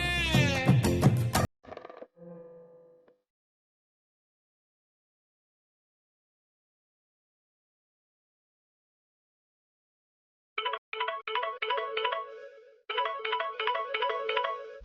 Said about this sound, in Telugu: ఆంటీ ఏంటి ఇప్పుడు కాల్ చేస్తున్నారు?